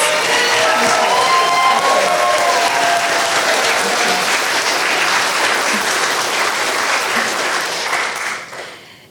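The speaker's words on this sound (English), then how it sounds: "Can we please give them a round of applause?" Wedding guests at a reception applaud in a steady, loud wash of clapping with some light cheering mixed in, holding strong for several seconds before tapering off at the end.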